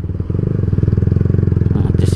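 An old Yamaha Vixion motorcycle rides along a road at night, its engine puttering in a close, steady rhythmic drone with other motorbikes around.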